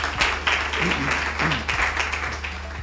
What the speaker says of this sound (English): Let's give HIPTV a round of applause.